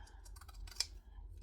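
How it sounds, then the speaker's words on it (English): Pinking shears, or zigzag scissors, cutting the edge of fabric for a pink dress, giving a few quick soft snips up close with one sharper click, quiet against a low background hum. "pinking shears or zigzag scissors"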